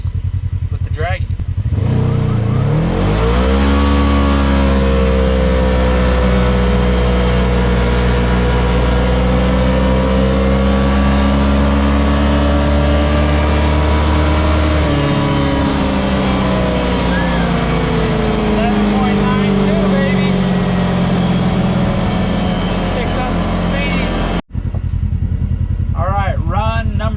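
A Kawasaki KRX side-by-side running with no weights in its clutch roars loudly close by, accelerating with rising engine pitch that climbs and levels through a long pull, then abruptly cuts off near the end.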